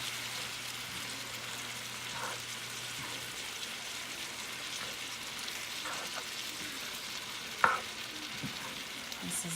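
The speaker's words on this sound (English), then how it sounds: "we're gonna give it another stir." Spiced ground beef keema sizzles steadily in a pan for Indian cooking, a soft continuous fry with a few brief scraping stir strokes and one sharper clink near the end.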